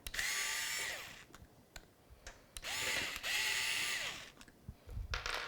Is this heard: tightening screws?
yes